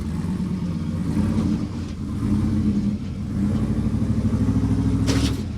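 A rock crawler rig with plenty of horsepower revs its engine at a Texas rock crawling competition. The deep, steady engine roar stays loud and close, with a brief sharper surge of revving near the end.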